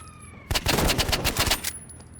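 A rapid burst of automatic gunfire in the video game Rivals lasting about a second, loud and close, with quieter ambient tones before and after.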